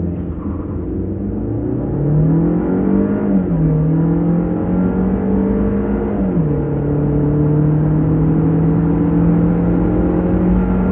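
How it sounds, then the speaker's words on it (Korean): A Chevrolet Trax facelift small SUV with a 1.4 turbo engine and six-speed automatic accelerates hard from a standstill, its engine note climbing steadily with a brief dip at each upshift, loud and continuous from inside the cabin. "우선 발진 가속 성능에 대해서도 한번 알아보죠"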